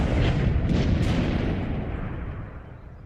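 Tank gun firing in World of Tanks, one loud booming shot up front with a heavy rumbling tail that slowly fades over a few seconds.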